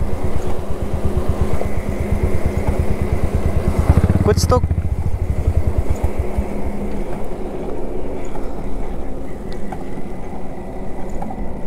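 A Hunter 350 or Interceptor 650 motorcycle rolls in neutral with its engine off, giving a rapid, steady rotating whir with a brief sharp clatter partway through. Riders talk over it.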